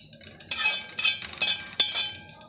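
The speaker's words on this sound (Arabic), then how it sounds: "شربت معانا السمنه زي ما احنا شايفين، يا دوب نحمرها مع بعض" Kunafa pastry is stirred and fried in native ghee in a pan for a kunafa cake. A few distinct scraping strokes and clinks sound over a soft, steady sizzle, close by and without talk.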